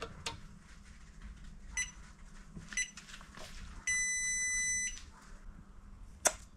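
An EEL 12V battery case beeps as it is switched on, giving several short high electronic chirps followed by a steady tone lasting about a second, over faint background noise.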